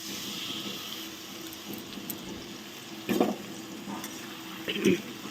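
Spices fry in a pan for paneer rasa, with a low, steady sizzle and two louder spoon-stirring scrapes near the end.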